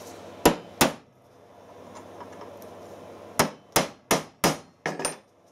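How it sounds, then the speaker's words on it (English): A hammer strikes a steel tap used as a centre punch on a tractor half shaft: two sharp metallic blows, a pause, then a quick run of about six more close, ringing hits. "I've been hitting the tap with a hammer like that as a centre punch"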